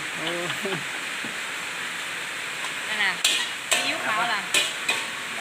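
Small termite mushrooms stir-fry in a wok with oyster sauce, giving a steady sizzle with sharp metallic scrapes and clanks of a spatula, while someone talks over the cooking.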